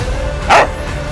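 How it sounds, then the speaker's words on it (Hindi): A single short, loud bark from an Indian Army dog rings out close by against a steady background hum. "ये है इंडियन आर्मी का कुत्ता ट्रॉय।"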